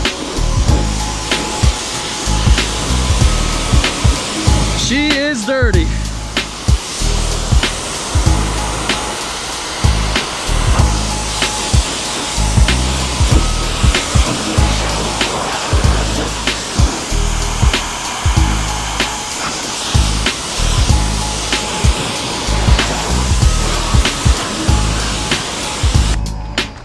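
A pressure sprayer hisses steadily and loudly up close while a 2024 Mustang GT is being detailed, with a pulsing rumble under the spray and a brief voice partway through.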